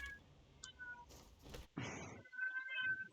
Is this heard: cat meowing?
yes